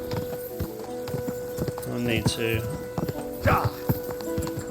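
Horse hooves clip-clopping at pace in Kingdom Come Deliverance 2, rhythmic close thuds with a brief whinny-like cry, under someone talking while riding.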